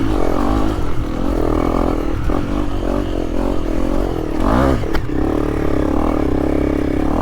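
An enduro motorcycle engine labors loudly and steadily, revving under load with clattering and scraping as it climbs a dirt slope.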